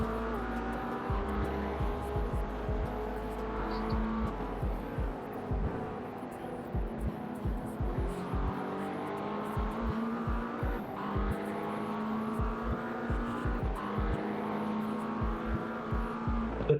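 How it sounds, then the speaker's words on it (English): A Porsche race car in the iRacing sim at Bathurst roars past during a 12-hour endurance race, a steady engine drone with rising and falling pitch sweeps, gear shifts and brief tire squeal layered with other car noise. "Porsche's gonna go by you here."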